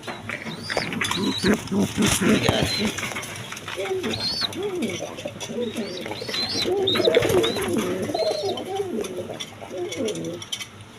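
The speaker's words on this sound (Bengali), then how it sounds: "একদম সুস্থ সবল কবুতর" Pigeons of various breeds kept for sale coo in repeated soft, rolling calls, close and fairly loud, overlapping one another, with someone talking over them and some rattling cage noises.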